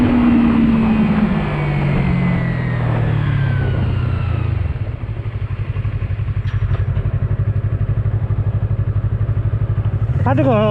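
A Colove 321RR sport motorcycle engine on a closed road, loud and close, droning as it decelerates then settling into a steady throbbing run before a sharp rev at the end; a voice talks over it.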